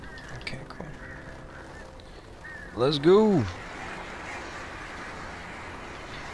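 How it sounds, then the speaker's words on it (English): Birds honk and cry loudly in the video game Alan Wake Remastered on Xbox Series X, a single short goose-like call bursting out over a steady game backdrop while someone speaks briefly. "More birds coming."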